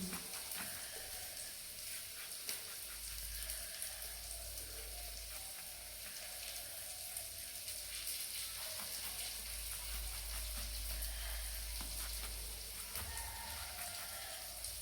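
Pointed gourd (potol) frying in spiced oil, a faint continuous crackling sizzle like light rain, steady throughout with small pops and no voices.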